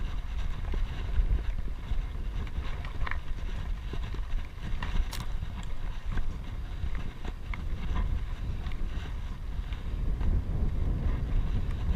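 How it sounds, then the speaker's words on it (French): Wind blows steadily outdoors on a hillside above the sea, buffeting the microphone with a continuous low rumble and rustling that never lets up. "Et en plus, il y a du vent aujourd'hui"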